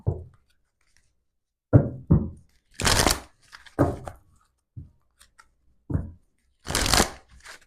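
Tarot cards being shuffled and drawn from a deck, several short riffling and slapping bursts separated by silences, close and crisp with no talk.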